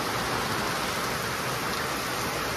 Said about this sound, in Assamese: আজিও এইখিনি সময়তে বৰষুণ দি আছে